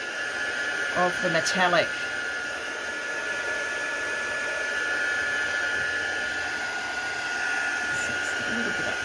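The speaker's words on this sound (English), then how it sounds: "all you need to do is grab your heat tool, give it a dry" A heat tool blows a steady, even hiss over metallic ink on card, running continuously with a few brief spoken words near the start.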